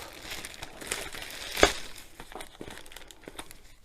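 Plastic wrapping peeled off a craft kit box, a few seconds of close crinkling and crackling with one sharp tearing snap in the middle.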